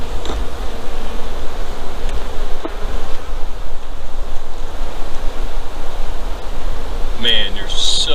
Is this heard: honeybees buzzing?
yes